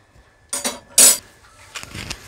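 Par-cooked biryani rice being drained in a home kitchen, heard as a few short metallic clinks and scrapes of a pot and strainer, with one louder clattering burst in the middle, close by with no talk.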